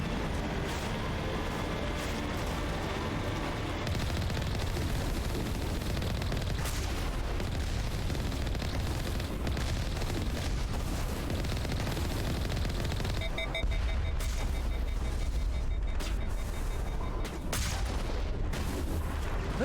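Tail-mounted gun firing in Mass Effect, sustained bursts of rapid gunfire with booming impacts over a dense battle din, loud and continuous throughout.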